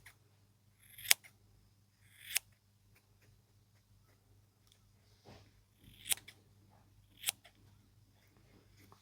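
Scissors snip close by, trimming a small fluffy craft piece. Five sharp, separate cuts are spaced a second or more apart against a quiet background.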